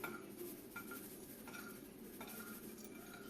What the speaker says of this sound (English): we're going to put minced onion on there too. Okay, stir it good.